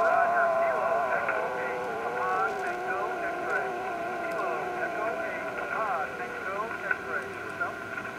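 A weak amateur radio signal sits deep in band noise during a low-power park contact, with faint wavering tones drifting under a steady hiss; a voice talks over it.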